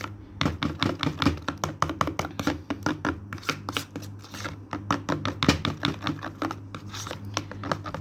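A dry milk face pack being mixed in a bowl gives a steady run of quick scraping, tapping strokes, close and fairly loud, with a constant low hum underneath.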